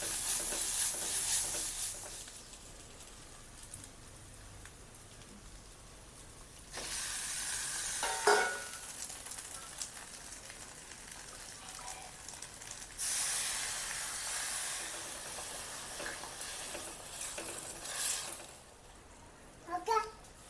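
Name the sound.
frying puri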